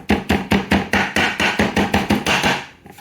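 A rapid series of heavy knife blows smacking scallion greens on a chopping board, over a dozen close, forceful thuds in a steady beat that slows and fades at the end.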